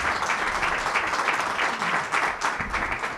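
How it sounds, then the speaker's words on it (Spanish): Audience applause at a Spanish-language event, a steady wash of many hands clapping at moderate volume that keeps going throughout with no talking over it. "Un aplauso, por favor"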